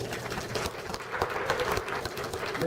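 A library concert audience claps for the trombone section of a brass band, uneven, moderately loud applause with individual hand claps standing out in a fluttering, irregular patter; no voices.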